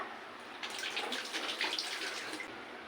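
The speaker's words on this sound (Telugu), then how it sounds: "చెయ్యి కడుక్కున్నాను బాగా" Hands being washed under running tap water: a close, splashy stream with uneven rubbing and spattering for a few seconds, no voices.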